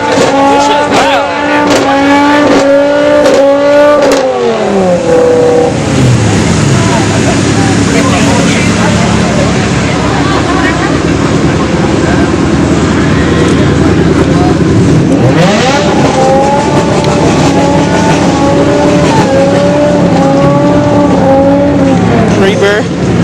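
Car doing a tire burnout in a burnout pit at a burnout competition, engine revving hard and dropping to a sustained roar of screeching tires, then revving up again, loud and close throughout.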